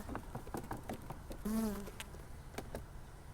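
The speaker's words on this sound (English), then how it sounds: "bees in the super, the few bees that are there" Honeybees buzz close by in a hive in a steady drone with scattered soft taps, and one louder, nearer buzzing pass swells briefly in the middle.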